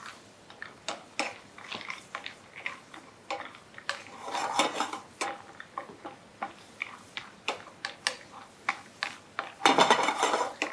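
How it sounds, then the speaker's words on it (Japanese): Almonds stirred through melted sugar in a frying pan, giving a steady run of light ticking, clinking rattles like nuts knocking against metal, with a louder clattering flurry near the end and no voices. "お砂糖が溶けましたら、そこにアーモンドを入れます。 そしてここでこの水分を飛ばします。"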